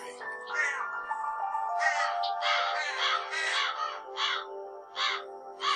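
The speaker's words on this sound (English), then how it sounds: "Dawn signals the crows to start their jabbering. What a racket they make in the willow tree." Crows caw harshly and repeatedly at dawn from a willow tree, a close, loud run of overlapping rasping calls in irregular bursts with little else behind them.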